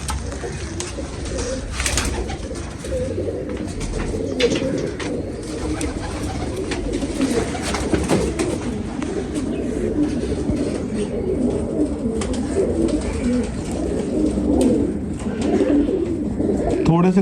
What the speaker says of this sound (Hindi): थोड़े से कबूतर हैं जी इस दफ़ा पटाई के दौरान